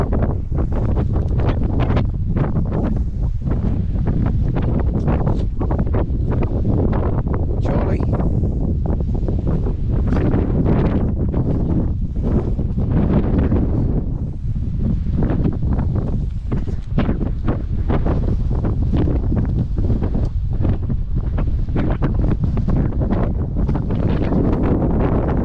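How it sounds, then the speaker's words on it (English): Strong wind buffets a GoPro Hero9 microphone throughout, a loud continuous roar with gusty rumbling and no clear speech. "It's going to be windy, and not much we can do about that"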